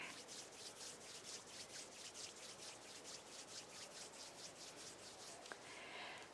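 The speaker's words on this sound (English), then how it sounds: "bring the palms of your hands together at chest level and rub them against each other" Palms of the hands rub together in a steady back-and-forth rhythm, a soft continuous swishing friction, close and quiet with no speech, during a guided meditation.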